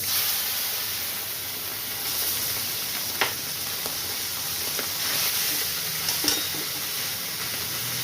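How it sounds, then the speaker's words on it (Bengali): Morla fish frying in hot oil, a steady close sizzle and hiss throughout with a few soft clinks and stirring bumps, no voices. "তেলে মোরলা মাছগুলি আমি দিই। ভাজা হোক"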